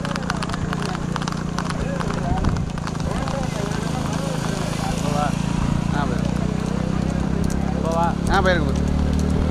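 Horses galloping in a rural horse race in Tamil Nadu, rapid clip-clop hoofbeats running under constant loud crowd chatter and shouting, with engine hum in the background.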